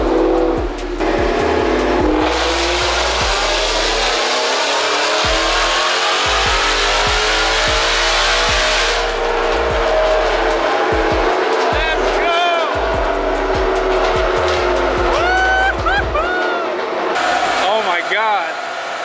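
A supercharged Ford Mustang GT roars on a chassis dyno, its engine climbing through a long, loud wide-open pull before dropping to a burbling idle with blips of revving, while people talk nearby.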